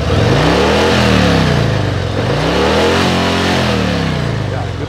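A Harley-Davidson Fat Boy 114 motorcycle engine revs up and falls back twice, a loud, close, deep rumbling that climbs steadily in pitch before dropping again, with nothing else heard over it.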